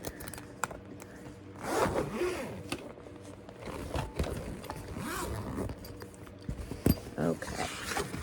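A zipper on a retreat goodie bag is opened in several rasping pulls across about eight seconds, close and fairly quiet, with handling rustles and a couple of sharp clicks between strokes.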